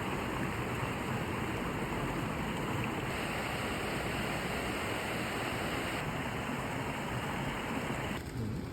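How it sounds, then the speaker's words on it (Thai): Water at a natural waterfall and stream in the mountains of Meghalaya, India rushes in a dense, even roar that holds steady and close throughout. "น้ำตกธรรมชาติอากาศเย็นสบาย"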